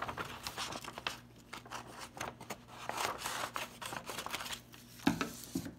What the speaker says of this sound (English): go ahead and cut yourself a lovely square